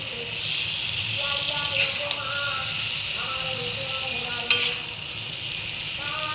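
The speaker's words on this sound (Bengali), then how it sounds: "আমি মশলা দিয়ে কষিয়ে নিয়েছি" Spices stir-fried in a pan for a vegetarian curry, a steady bright hiss of frying with occasional scrapes of stirring, continuous throughout while someone talks over it.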